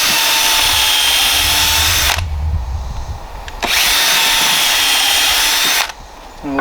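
A power drill whines in two bursts, pre-drilling screw holes in wood with a high steady spin, brief quieter pauses between the runs.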